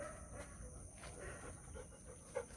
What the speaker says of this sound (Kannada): ಪಕ್ಕದ ಮನೆಯ ನಾಯಿ ಒಂದು ಆಗದಿನ ಬೊಗಳ್ತಾ ಉಂಟು